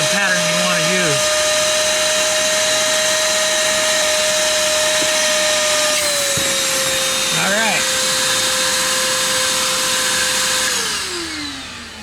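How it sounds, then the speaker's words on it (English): A shop vac runs steadily and loudly while vacuuming the interior of a 2016 Hyundai Elantra, its motor whine holding constant then dropping slightly in pitch twice, with brief nozzle scuffs and suction changes before it winds down at the end. "where I use the shop vac and where it's wet"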